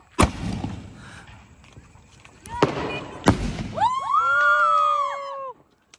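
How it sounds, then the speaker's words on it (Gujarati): Three sharp Diwali firecracker bangs burst at uneven intervals, followed by a high, wavering whistling shriek that fades out. "मैंने फटाकड़ा फोड़ दिखाया"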